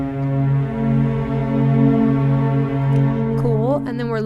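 A sustained dissonant piano chord voiced as 11, 18, 23 rings steadily and fairly loud, then fades as a brief vocal sound enters near the end.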